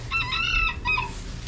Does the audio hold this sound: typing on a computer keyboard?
no